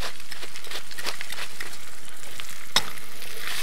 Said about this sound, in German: So, kurz anbraten.